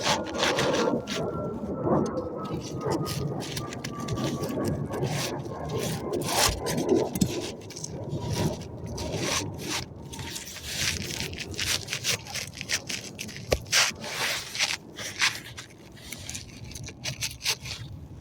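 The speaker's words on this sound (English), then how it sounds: "Let's go ahead and slide the shingle back in." Asphalt roofing shingle slid back into its slot on a roof, giving a long stretch of continuous dry scraping and rubbing, close and moderately loud, with rougher bursts toward the end and no talk.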